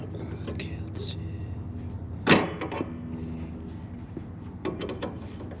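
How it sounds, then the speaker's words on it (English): A metal pin pulled free from a Murray Select mower deck gives one sharp, close metallic clack over a low steady background hum, followed by a few fainter small taps. "Okay, there we go. Pulled out the pin."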